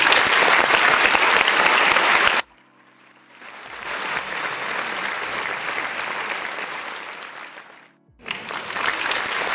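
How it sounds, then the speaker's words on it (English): A round of applause with loud, dense clapping that cuts off abruptly, returns as a softer, more distant wash, then bursts back in full at the end. "Where's my round of applause?"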